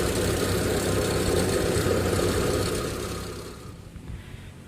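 The engine of a used Daihatsu Zebra Espass idles at close range with a steady, smooth drone that fades gradually toward the end.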